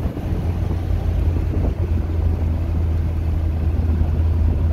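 A 1975 Citroen DS23 Pallas with fuel injection rolls along a bumpy road, a low steady engine hum and road rumble filling the cabin with some wind noise, no voices.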